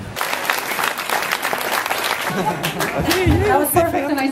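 Applause from a crowd, dense and steady throughout, with a voice and other tonal sounds rising over the clapping in the second half.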